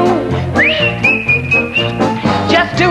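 Melodic whistling of a tune at a 1978 telethon, a bright sustained whistled line gliding between notes over band accompaniment, close and clear.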